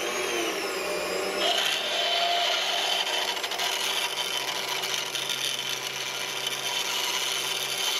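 A drill bit grinds steadily into stainless steel, drilling a 5/16 inch hole, a loud continuous rasping whine that holds without pause. No one speaks.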